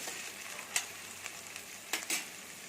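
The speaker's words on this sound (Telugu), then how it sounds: "ఆయిల్ తాగింది ఇప్పుడు ఉల్లిపాయలు వేయాలి ఇంకోసారి బాగా కలపాలి" Thinly sliced onions fry in oil for chicken gravy, a soft, steady sizzle broken by a few sharp scraping clicks of the spoon being stirred through the pan.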